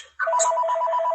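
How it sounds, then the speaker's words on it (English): A landline telephone rings at home with a repeated electronic bell trill, starting abruptly and continuing steadily, close and loud, with no talk over it. "that's my phone"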